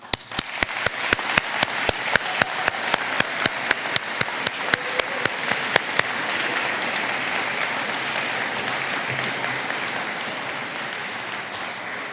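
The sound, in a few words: graduation ceremony audience applause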